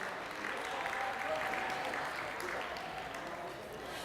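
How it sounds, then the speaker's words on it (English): Steady audience applause fills a sports banquet hall as award winners are honoured, a dense continuous wash of clapping at even loudness for about four seconds. "Give them a round of applause, please."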